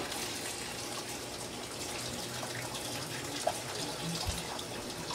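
Hot water runs steadily from a tap in a soft, constant stream while a brush is rinsed, with a couple of faint knocks.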